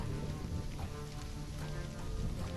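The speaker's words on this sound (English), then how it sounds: "It's not really a storm. It's just rain." Steady rain in the video game Stranded: Alien Dawn, a dense continuous hiss of falling drops with a low rumbling bed underneath, even and unbroken throughout with no wind.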